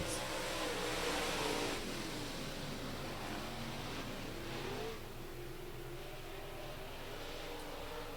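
USRA Modified race cars roar around an oval during a heat race, a steady, distant wash of engine noise with a couple of passing swells and no voices.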